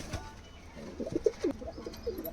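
Imported teddy pigeons give a few quiet, low coos in a short burst, faint and close, over a hushed background.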